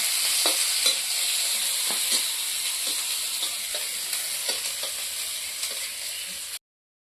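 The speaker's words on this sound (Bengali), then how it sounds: "পিঁয়াজ কিছু কাঁচা লঙ্কা ভাজি দিই" Onion and green chilies fry in a pan with hot oil, a steady near sizzle with repeated spatula scrapes and small crackles throughout, ending abruptly in silence.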